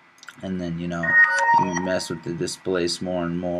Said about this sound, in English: sorry about my phone, by the way